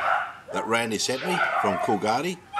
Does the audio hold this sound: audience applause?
no